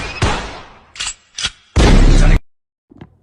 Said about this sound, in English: make that pistol pop